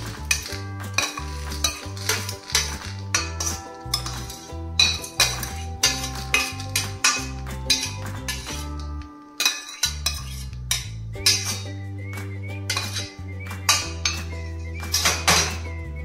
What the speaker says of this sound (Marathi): आता ज्या भाजलेल्या डाळी आहेत त्या आपण थंड होण्यासाठी एका ताटात काढून घेऊया